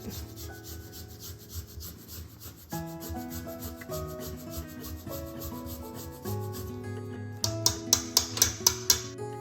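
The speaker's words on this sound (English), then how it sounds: "take a microplane. And it really finely minces it." Fresh ginger rasped across a microplane makes soft, repeated scraping strokes, quiet and close, with a few sharper, quicker strokes toward the end.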